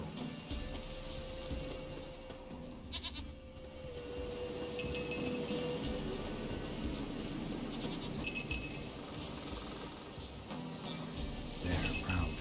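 A small handbell rung in the video game The Witcher 3 gives bright metallic clinks, about three rings spaced a few seconds apart, over a steady outdoor background.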